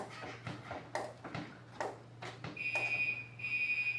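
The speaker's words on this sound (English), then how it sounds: "Actually, we got a fire alarm." A shrill, steady fire alarm tone starts partway through and pulses on continuously, following a series of scattered knocks and taps.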